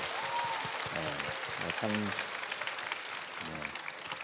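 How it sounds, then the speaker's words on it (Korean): Audience applause fills a conference panel session, steady and dense throughout, with a voice speaking over the clapping. "한 번 더 박수로 응원해 주시면 감사하겠습니다."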